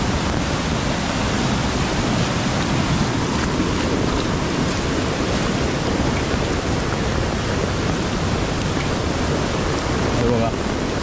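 Kajali river in flood on a Konkan village road, floodwater rushing loudly and continuously across the road over a culvert, a dense roar with wind buffeting the microphone.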